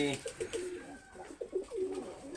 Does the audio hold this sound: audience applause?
no